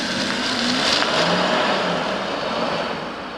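An Audi R8 with a V12 TDI diesel engine and a six-speed manual gearbox revs as a steady, dense roar with a rising whine, loud and continuous, then easing slightly toward the end, with no voices.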